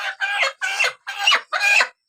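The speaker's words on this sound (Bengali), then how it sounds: "দেখা যাক কোন মুরগিটা ধরা যায়।" Chickens being caught give loud, close clucks and squawks in five rapid bursts, one after another, with no voices over them.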